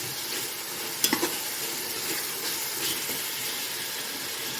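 Chicken leg pieces brown in a hot pan for Lahori murgh cholay, giving a continuous hissing sizzle with a couple of sharp utensil knocks early on, no talking.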